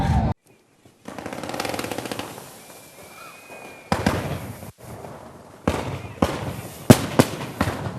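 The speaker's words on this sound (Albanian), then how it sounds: "duke dhuruar një spektakël fishek zjarresh" New Year fireworks over Tirana, Albania burst in a string of sharp, loud cracks and booms, irregular and clustered toward the end, with crowd noise between them and a brief whistling rocket in the middle.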